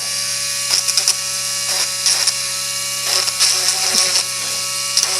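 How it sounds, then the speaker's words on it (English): A Dremel rotary tool whines steadily up close while it cleans dirt from the rear chassis screw heads of an Arrma Outcast RC car, with repeated short grinding bursts as the bit touches the screws. "I'm going to take a Dremel and I'm going to get the dirt out of the back screws"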